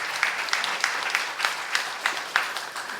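Church congregation clapping during a youth service sermon, a short run of distinct claps at a regular, roughly half-second rhythm, moderately loud and free of talk.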